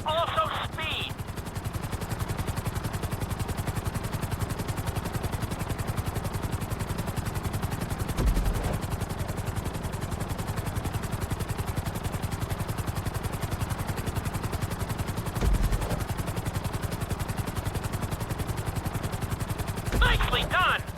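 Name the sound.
helicopter flying in GTA 5 video game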